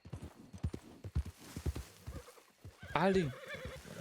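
A horse in the Red Dead video game clip-clops at a steady trot, hooves landing in a quick rhythm, then lets out a loud, clear neigh near the end while a man urges it on.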